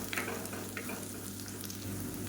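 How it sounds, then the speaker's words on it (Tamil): Chili powder sautéing in oil for a channa masala chickpea gravy, a steady close sizzle with soft scraping stirs throughout, no voices. "இது வந்து எண்ணெயில் வதக்கி விட்டுக்கலாம்"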